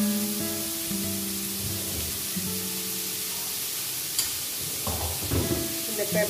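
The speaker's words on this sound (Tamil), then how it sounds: "இப்ப ஆனியன் போட்டுக்கிறேன். ஆனியன் நல்லா வதங்கணும், ப்ரௌன் ஆகணும்." Onions sautéing in a pan for a mushroom pepper fry give a low, steady sizzle throughout, with a few stirring scrapes and clatters toward the end.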